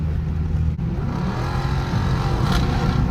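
A 400 HP Chrysler 300 with a Hemi engine pulls hard under throttle, a loud, steady, dense engine roar from inside the car with a brief dip before it keeps droning on.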